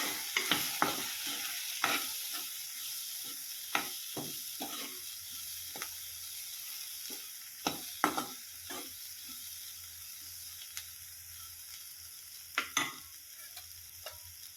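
Green pea chutney being mixed in a hot pan, repeated scraping and tapping of a spatula against the metal in an irregular rhythm over a faint, steady sizzle, close and fairly quiet, with no talking.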